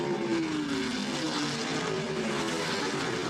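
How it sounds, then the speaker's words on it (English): Continuous roar of Indy race car engines at about 220 mph, steady and loud, with a sustained engine whine gliding slightly in pitch throughout. "Indy cars going 220 miles an hour."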